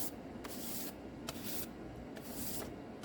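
Spray coat being applied to a guitar body, a steady hiss from the spray can with brief breaks, close and continuous over about three seconds.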